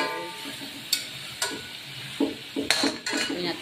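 Vegetables and cabbage are stirred in a pan with a utensil, giving a few sharp scraping clinks against the metal over a soft sizzle, close and without talk.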